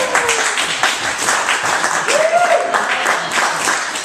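An audience at a small literary reading event claps after a short piece, a dense burst of applause with a brief whistle or voice sliding through it.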